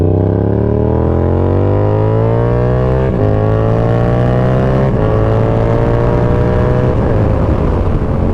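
A Yamaha R7 motorcycle fitted with an SC Project CR-T exhaust roars loud and close, its engine pitch climbing steadily through the revs with brief dips at gear changes.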